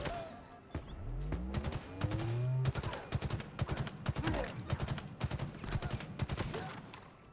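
Battle rifle in Halo Infinite's campaign firing rapid three-shot bursts, loud and close, over a sweeping game sound effect, with explosions and other battle noise in the background.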